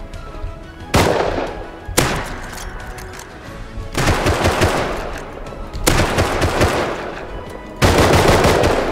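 Loud, close gunfire in the survival game Rust: sharp reports about a second apart open the clip, then several dense, sustained bursts, each ending abruptly before the next.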